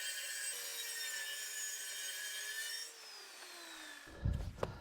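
Steady saw cutting through two clamped plywood sheets at once in a home workshop, a continuous even whine that ends around four seconds, followed by a few knocks and handling thumps.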